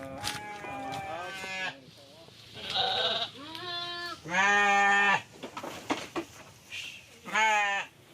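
Goats on a small village farm bleat repeatedly in loud, wavering calls, several overlapping animals close by, with quieter rustling between cries.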